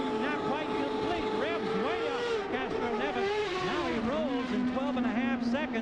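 A CART Champ Car's engine revs up as it leaves the pits during the 2000 Fontana 500, rising and falling in rough whining sweeps under continuous race-commentary talk.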